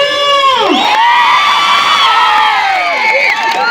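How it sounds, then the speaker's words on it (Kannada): A large village fair audience at a temple festival in Lakkundi roars with loud sustained cheering, whoops and shouts, children's high voices rising and falling above the din for several seconds. "ಅಕ್ಕಾರ ಜೋರಾದ ಚಪ್ಪಾಳೆ ನೋಡಿ"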